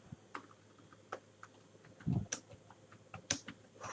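Light computer keyboard typing, a handful of scattered soft keystrokes with a brief cluster of louder taps, close and quiet, with no talk.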